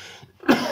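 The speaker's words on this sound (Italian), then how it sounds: "Scusatemi, la tosse catarrosa." A phlegmy, wet cough bursts out after a short quiet pause, close and fairly loud, heard alone without any talk.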